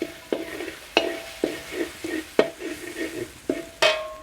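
Pounded garlic and coriander root stir-frying in reused garlic-frying oil, a steady sizzle punctuated by about eight sharp scrapes and clanks of a utensil against the pan at an even rhythm.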